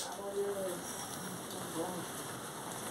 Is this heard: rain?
yes